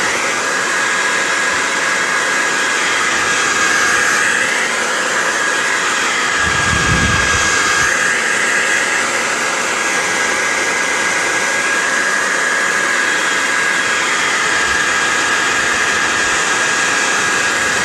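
An old Revlon hair dryer blows on a small stool coated in chalk paint, giving a loud, steady whooshing roar that runs the whole time, with a brief low rumble partway through.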